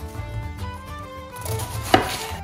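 A knife cuts a head of cabbage into big chunks on a cutting board, a few dull thunks ending in one sharp chop, heard close up against a faint background hum.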